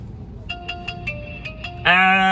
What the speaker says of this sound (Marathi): भावाचा फोन आला